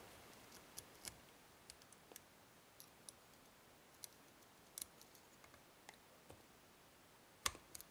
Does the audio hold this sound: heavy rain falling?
no